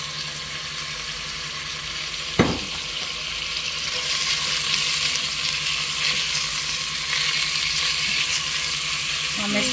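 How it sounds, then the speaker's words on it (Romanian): A smoked ham hock, onion, dill and garlic sauté in a few spoonfuls of oil in a pot on a gas stove, a steady close sizzle that swells after a single clunk early on. "am pus 2-3 linguri de ulei și acum punem ciolanul și ceapa, mărarul, usturoiul la călit"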